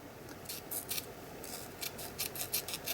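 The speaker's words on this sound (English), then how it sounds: "I'm just going to quickly cut each separate line out." Scissors snip out separate lines of paper for an art journal page, with quiet, close, irregular cutting bursts, some single and some in quick runs, over a faint background hiss.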